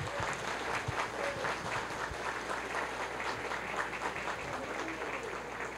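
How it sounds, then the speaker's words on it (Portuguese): Wedding guests clap for the newlyweds in a steady, moderately loud spread of applause that carries evenly from start to finish. "Uma salva de palmas para os dois."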